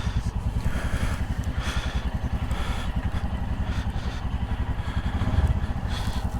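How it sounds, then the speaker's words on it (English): A Royal Enfield INT 650 motorcycle engine runs steadily close by, its rapid even pulsing thrum continuous and loud, swelling slightly near the end with no talk. "taking out the Royal Enfield INT 650."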